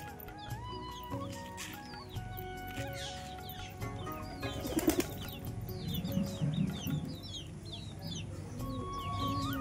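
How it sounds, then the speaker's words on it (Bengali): Chickens cluck and flap their wings as they gather to be fed, with busy overlapping calls and a burst of wingbeats near the middle, close by and moderately loud over constant farmyard background. "চলো দেখো মুরগিগুলো খেতে চলে এসছে এদের সাথে"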